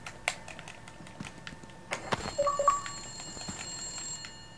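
Telephone ringing inside the Saw 2 video game, heard as a short burst of electronic ring tones midway through, set against faint background ambience with scattered clicks.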